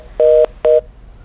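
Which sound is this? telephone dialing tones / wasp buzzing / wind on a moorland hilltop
telephone dialing tones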